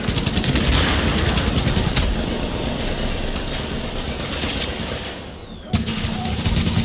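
Sustained machine gun fire in the shooter game The Division, a dense continuous rattle with a roaring backdrop, broken by a sharp loud burst near the end.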